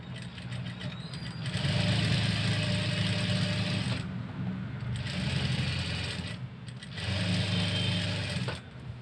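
A sewing machine stitches a blouse lining in three rapid whirring bursts separated by brief pauses, close and fairly loud.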